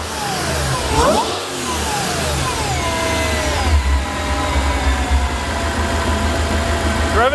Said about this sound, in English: Rev it again. Rev it.